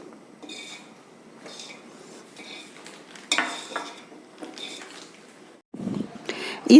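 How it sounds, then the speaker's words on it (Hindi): Milk being stirred in a pot while it cooks for rasmalai, a spoon scraping and clinking against the metal in repeated soft strokes with a brief louder clatter near the end, mostly close and fairly quiet. "इस दूध को हम लगातार 10-12 मिनट तक चलाते रहेंगे"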